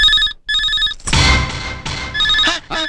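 A telephone rings in a Telugu comedy film scene with two clear electronic ring bursts, broken by louder scene noise and a voice, then a third short ring near the end.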